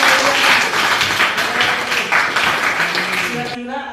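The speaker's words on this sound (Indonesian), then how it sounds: "Tepuk tangan." Audience applause at a teacher performance assessment session, a mix of clapping and taps under overlapping voices and chatter, cutting off abruptly near the end.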